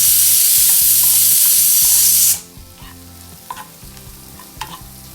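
Mango pachadi mixture frying and being stirred in a pan, a loud hiss for about two seconds that then drops to quieter crackling, with scattered sharp sizzle pops and clinks.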